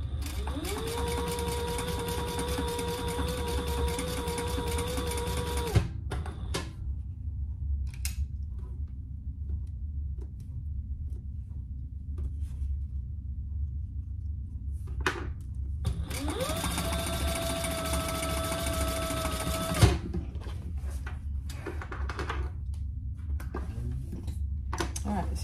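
A sewing machine stitches down the sides of a hobo bag in two steady runs of several seconds each, separated by a quiet pause with small handling noises.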